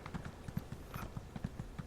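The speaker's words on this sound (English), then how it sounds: "Get on my horse." Horse hooves clip-clop in the fantasy game Elder Scrolls Online, a steady, even run of about ten close hoofbeats at a brisk pace, with no talk.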